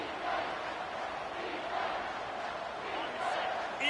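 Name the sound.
football stadium crowd cheering loudly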